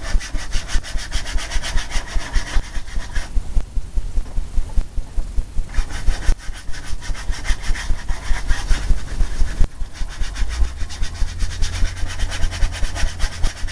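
A paintbrush scrubs paint onto canvas in steady, rhythmic back-and-forth rasping strokes, loud and close, with brief pauses between passes.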